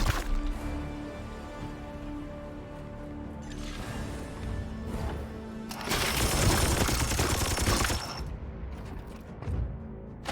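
Heavy gunfire in the Chaos Gate: Daemonhunters game rattles in a few bursts, with one long, loud automatic volley in the middle and mechanical clanks around it.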